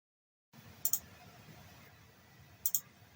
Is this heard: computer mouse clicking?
yes